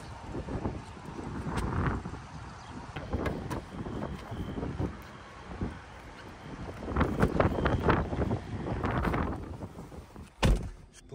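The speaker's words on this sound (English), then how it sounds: "It is windy out and stormy" Gusty stormy wind buffets the microphone in rumbling bursts beside an electric car charger, with a few knocks and a sharp thud near the end.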